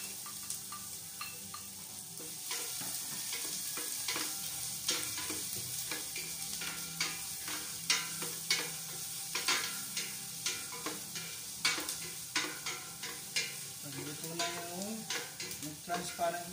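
Onions sautéing in a pan for dinuguan with coconut milk, Bicol style: a continuous hot sizzle with repeated scraping stirs of a utensil, close and fairly loud, with no talking.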